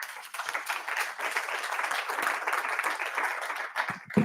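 An audience at a youth summit applauds panelists, a dense, steady wash of many hands clapping that holds throughout with a louder burst near the end.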